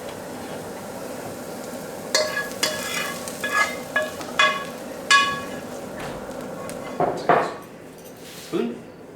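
Mushrooms and shrimp of the woods are stirred in a hot pan, a soft sizzle underneath a run of scraping, clinking utensil strokes at an uneven rhythm, with voices talking nearby.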